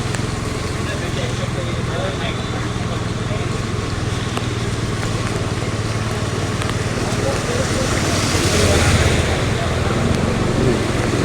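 A car pushes through a waterlogged road during heavy monsoon rain in Vasai Virar, its tyres partly submerged, making a steady, loud wash of rain and engine rumble with water surging louder toward the end.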